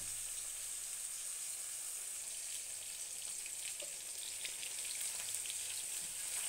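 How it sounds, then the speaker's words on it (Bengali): Fish frying crisp in a pan of oil, a steady close hiss and crackle running unbroken and fairly quiet throughout, with faint scattered pops. "মাছগুলো একটু মোটামুটি কড়া করে ভাজবি।"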